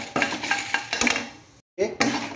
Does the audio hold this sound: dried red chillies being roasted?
yes